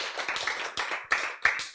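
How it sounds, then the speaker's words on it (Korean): Audience clapping at a health lecture hall, a brief burst of many hands applauding together at close to moderate distance, lasting under two seconds. "박수!"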